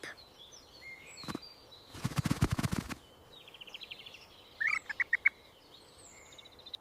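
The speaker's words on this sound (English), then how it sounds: "Chirp." Small wild bird chirping outdoors: a few faint, high tweets scattered through the quiet, with a short run of brighter chirps near the end, broken by a couple of loud rustling bursts.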